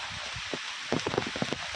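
Steady heavy village rain hisses across the whole clip, with a scattering of louder drops pattering on a nearby surface.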